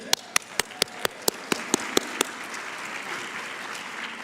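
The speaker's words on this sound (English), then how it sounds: "Give yourselves another hand." Audience at the 2025 Illinois Workforce Summit claps for a few seconds, sharp separate claps sounding out through the room over a dense wash of steady applause.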